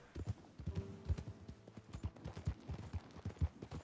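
Horse hooves clip-clopping in Red Dead Redemption 2, the slow heavy horse's steady rhythmic clopping of distinct hoof strikes, close and fairly quiet, with no talk.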